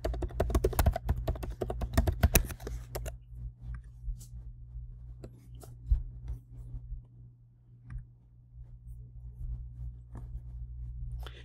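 Keys clatter on a computer keyboard as login credentials are entered, a dense burst of rapid typing for the first few seconds, then sparse isolated clicks over a steady low electrical hum.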